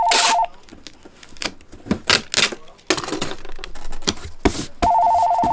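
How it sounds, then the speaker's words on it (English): A shop telephone rings in loud electronic bursts at the start and again at the end, with clattering and people talking in between. "And Karen can get the phone right now."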